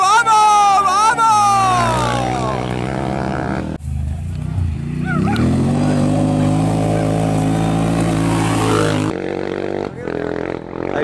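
Rally quads race past spectators on a dirt stage near Palma del Río, Córdoba, their engines revving loud and close with rising and falling whine, while excited spectators shout over them throughout.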